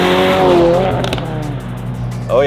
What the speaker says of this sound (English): Now we're going to hop over in our WRX with a big turbo, see how it goes.